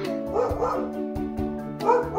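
A dog barks several times in quick uneven yips, close by, over a low steady hum and faint background voices.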